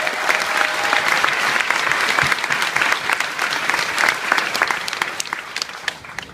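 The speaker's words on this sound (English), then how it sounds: "I'd also like to offer up a round of applause for our 20 newest citizens" A crowd at a military family day ceremony applauds steadily, a dense patter of clapping hands that holds for several seconds before thinning slightly toward the end.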